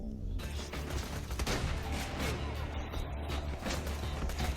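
Machine gun fire in the video game Borderlands 2, a steady stream of rapid rattling shots with mechanical clatter, fairly loud and continuous, with a voice briefly talking over it.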